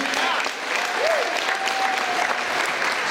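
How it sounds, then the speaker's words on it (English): A crowd at a high school freshman orientation gives a dean of students a round of applause, dense sustained clapping with a few faint voices and a brief cheer threaded through it. "Nice round of applause for Mr. Eng."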